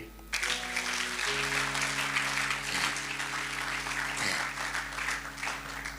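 A church congregation applauds with sustained, dense clapping over a steady tonal musical backdrop.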